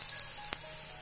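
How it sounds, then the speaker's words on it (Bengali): Faint, brief sizzle of an egg roll paratha frying in a pan over medium-low heat, a quiet hiss with a short sharp crackle. "দুদিকটা সুন্দরভাবে ভাজা হয়ে যাবে।"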